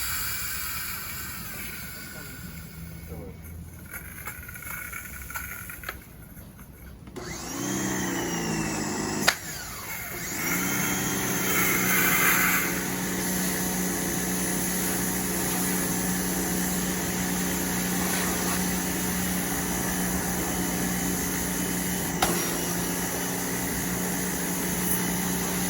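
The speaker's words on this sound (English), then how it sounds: "The B pressure washer is a great little unit" A BE 1800 electric pressure washer starts up partway through and runs with a steady whine and hum, loud and continuous after quieter handling noises, with a voice speaking over it.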